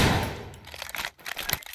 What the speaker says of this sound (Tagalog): narinig mo ba yung baril niya?